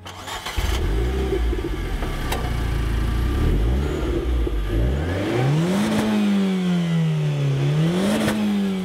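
A Renault car's 1.6 litre turbocharged engine starts with a clatter, then revs and accelerates, its pitch climbing through gear changes, loud and close with no talking.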